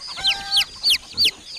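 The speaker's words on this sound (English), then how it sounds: "chick," A farmyard chick chirping: four short, high, downward-sliding peeps at an even pace, close and clear, with nothing else around them.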